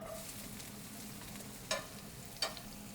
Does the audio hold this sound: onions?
yes